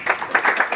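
Audience at a public municipal election debate in Figeac applauding the candidates, a short spell of steady, fairly close clapping from a small crowd, with no voices heard.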